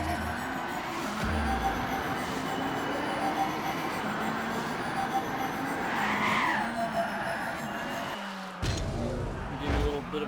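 A Rocket League car rolls on ZT-17 wheels and fires its Cold Fusion boost. A continuous, fairly loud engine and boost roar with shifting whine carries throughout, then cuts out briefly just before the end.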